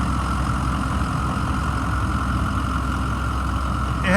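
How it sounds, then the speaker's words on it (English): A 2006 Ford E-450 Blue Bird Handy Bus engine idles steadily and continuously, a close, even mid-to-low drone with no change in pace throughout. "It's been running for over 40 minutes at idle."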